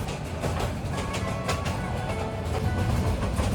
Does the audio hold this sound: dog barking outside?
no